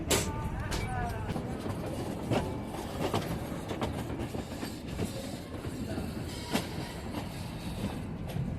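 Kalka to Shimla toy train running on its rails into Shimla station, a continuous rumbling clatter of wheels with occasional sharp clicks and faint squeals, moderately quiet and steady throughout.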